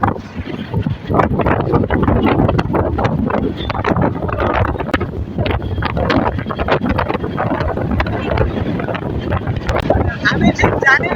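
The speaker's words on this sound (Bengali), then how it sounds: "ট্রেনের এত বড় শব্দ আর হচ্ছে বাতাসের পরিমাণটা অনেক বেশি" Loud rumbling clatter of a moving train heard from its roof, with heavy wind buffeting the microphone; a continuous rough roar with irregular bangs and gusts, no clear speech over it.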